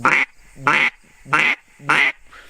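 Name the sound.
duck call greeting quack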